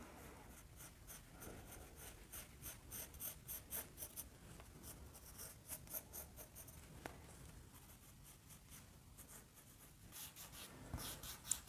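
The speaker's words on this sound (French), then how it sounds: "J'appuie pas trop fort sur le crayon pour pouvoir repasser plusieurs fois" A pencil moves lightly over watercolour paper for a Valentine's card, producing soft, close, scratchy strokes in short, uneven bursts that stay faint and papery throughout.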